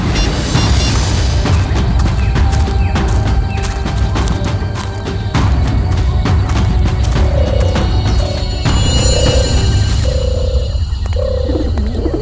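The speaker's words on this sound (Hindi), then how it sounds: "ये पटाखों की आवाज नहीं, कोई गोली बरसा रहा है।" Rapid gunfire bursts: loud, dense cracks and booms that pile up over several seconds, then thin out into scattered bangs with tonal sounds between them. No voices over the shots.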